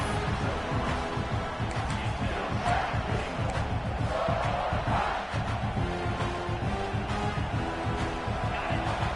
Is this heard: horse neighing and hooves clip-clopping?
no